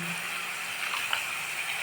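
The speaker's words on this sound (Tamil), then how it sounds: "கொஞ்சம் லைட்டாக தண்ணி விட்டு லைட்டாக தண்ணி விட்டு" Water poured into a pan of banana flower curry while it cooks, a faint, steady trickling wash lasting under two seconds with no talk.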